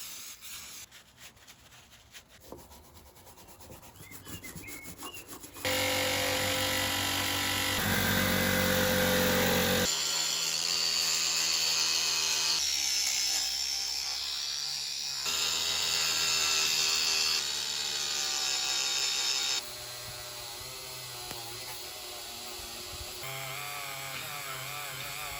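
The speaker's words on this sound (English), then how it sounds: "that's all the sort of sanding and whatever done" Brake calipers from an ST150 rear brake rebuild are sanded and scrubbed clean with a wire brush and power tools, giving a steady, loud whirring grind with abrupt changes in pitch and intensity, close up and without talk.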